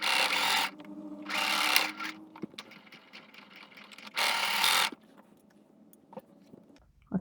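A sewing machine stitches fabric a quarter inch from the edge with a back stitch, a steady mechanical whir with short louder bursts of fast running, close up and without speech.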